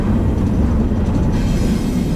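A train rumbles steadily past up in the pines near I-40 in Arizona, a loud, continuous low roar filling the whole stretch with no voices.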